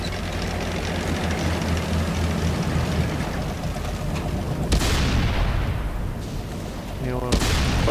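Tank gunfire and booming shell impacts in the World of Tanks video game on PS4, with heavy engine rumble throughout, a sharp blast near the middle and another close to the end.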